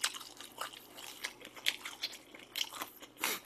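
Crispy fried chicken with glazed and spicy sauced drumsticks bitten and chewed up close, giving repeated wet crunches and squishy mastication in an uneven rhythm, with no talking.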